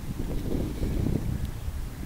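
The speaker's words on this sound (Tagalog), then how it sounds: "malakas po ang hangin kaya medyo may alon" Strong wind buffets the microphone outdoors beside a fish pond in a park, a steady, loud, rumbling roar with gusty fluctuations throughout and no voices.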